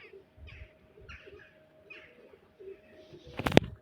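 Soft, muffled bird calls repeat at a steady pace at low volume, then a sharp burst of noise near the end.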